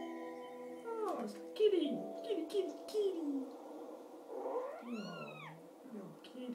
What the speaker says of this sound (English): kitty! Oh, little kitty.